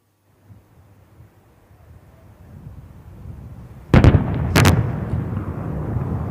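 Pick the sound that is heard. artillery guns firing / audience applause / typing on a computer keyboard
artillery guns firing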